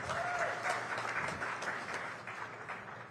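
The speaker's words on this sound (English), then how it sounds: "A round of applause, ladies and gentlemen," An audience at a business summit applauds for Gina, with steady, moderately distant clapping that thins slightly toward the end and no voices over it.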